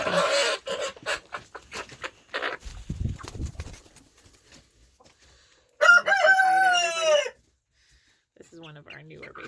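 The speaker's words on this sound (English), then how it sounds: "And so look at these chickens." Chickens in a backyard coop, with soft clucks under a person talking, then a loud, close rooster crow lasting about a second and a half.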